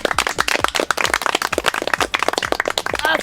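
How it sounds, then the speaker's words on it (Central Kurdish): Village schoolchildren in Qalachwalan clap together in a quick, dense round of applause, sharp hand claps overlapping for a few seconds close by. "هەر بژین یەک چەپڵە بۆ خۆتان."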